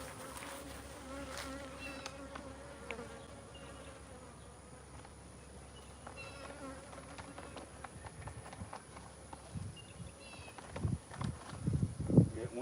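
Honeybees buzz around a hive during mite treatment, a steady close drone with individual bees passing near, louder toward the end, while a person speaks briefly.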